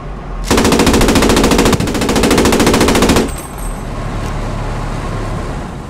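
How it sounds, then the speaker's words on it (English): Sustained automatic gunfire in the World War II game Squad 44, one long loud burst of rapid shots lasting about three seconds, then a low engine rumble carrying on underneath. "Who's shooting at us?"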